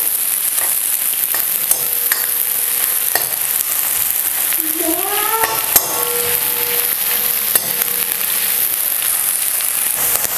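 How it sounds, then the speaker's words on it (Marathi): Thinly sliced onion sautéing in a pan for a chicken gravy masala; a steady, close frying crackle runs throughout, punctuated by sharp spatula scrapes and clicks, with a few faint squeaky tones in the middle. "कांदा आहे ना पूर्ण लालसर होईपर्यंत आपल्याला हे परतून घ्यायचं"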